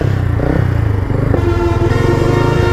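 Yamaha FZS V1 motorcycle fitted with an aftermarket exhaust, its engine running close by with a loud, steady, throaty drone and slight pulsing.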